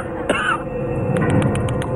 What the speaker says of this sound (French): Mais aussi la toux du perroquet.